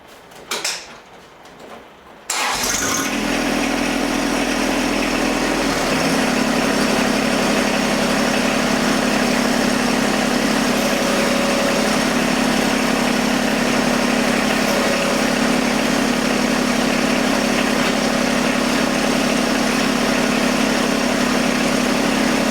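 A John Deere 1025R compact tractor's engine starts after a short quiet, handling stirs, then idles in a loud, steady drone while the loader is lowered, with a slight shift in tone a few seconds in.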